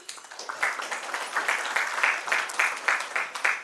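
Audience applause at a seminar, a short burst of steady, dense clapping from a crowd indoors, moderately loud and close, with no one talking over it.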